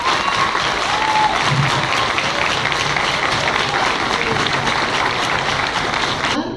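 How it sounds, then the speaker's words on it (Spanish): Conference crowd at an international LGBTI gathering in El Salvador breaks into sustained, dense applause that holds steady for several seconds before cutting off abruptly. "les demos un aplauso a todas y todos los que estamos aquí"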